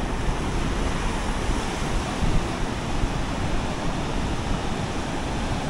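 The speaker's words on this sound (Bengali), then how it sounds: "সমুদ্র পুরো উত্তাল হয়ে আছে, ভালোই ঢেউ আছে।" Rough, churning sea sends waves crashing continuously onto Inani Beach near Cox's Bazar, a dense, steady roar with wind noise mixed in and no voices.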